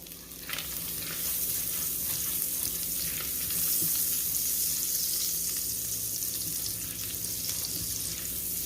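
Garlic fries in melted butter in a pan, giving a steady close sizzle with scraping stirs and light clicks running throughout, no talking.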